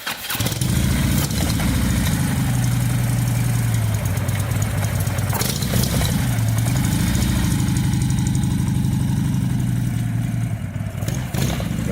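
A 2016 Harley-Davidson Street Glide engine, fitted with a reverse-gear install at a custom motorcycle shop, idles steadily with a deep, uneven lumpy rumble that holds loud and close throughout.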